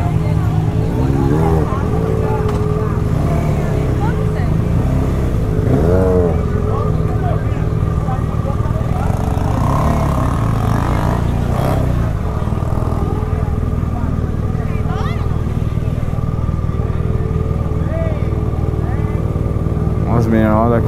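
A BMW 1200 motorcycle's engine runs loud and steady close by, its drone filling the whole stretch with a few brief rev swells, while voices talk over it.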